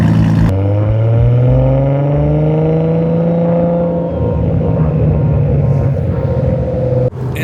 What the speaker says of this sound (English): now let's go for a ride in the R32 GTR.